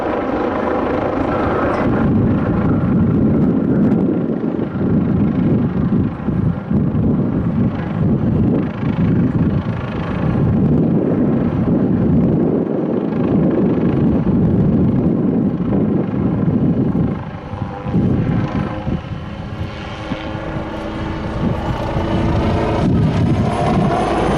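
A jet aircraft hovering low in front of the crowd at an airshow, a loud, steady roaring engine drone with wind buffeting that holds for the whole stretch, dipping slightly near the end.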